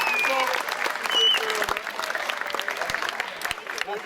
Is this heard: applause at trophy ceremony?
yes